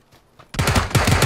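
A quick burst of automatic gunfire in the video game PUBG erupts after a quiet moment, loud close rapid shots in a tight rhythm.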